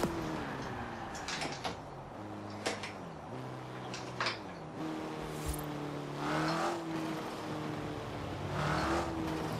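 Modified Opel Astra engine in Forza Horizon 4, droning and shifting pitch steadily, with occasional sharp clunks and swells, continuous and moderately loud with no talking.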